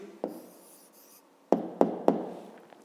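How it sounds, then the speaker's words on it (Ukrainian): A pen writes an answer by hand on paper, producing a few soft scratches followed by three sharp taps close together, quiet and near with no talking. "Пишемо відповідь."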